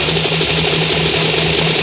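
Steady mechanical drone with a low hum, standing in for a helicopter engine in a live Hindi stage comedy; constant and fairly loud throughout, with no talking.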